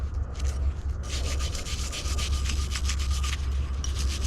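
A soft brush scrubs dirt off an object dug up in a farm field, giving close, rhythmic rubbing strokes that repeat steadily with brief pauses.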